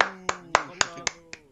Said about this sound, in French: Donc on applaudit tous Carnot.